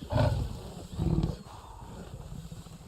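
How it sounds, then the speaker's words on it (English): A white panther roars twice in quick succession in the video game Red Dead Online, deep and close, then fades into quieter background noise. "That's a rare one, though. The white panther."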